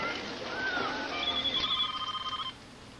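A telephone rings for a 911 emergency call, a clear electronic trill that pulses rapidly for about a second and a half and then stops, with a faint warbling tone before it.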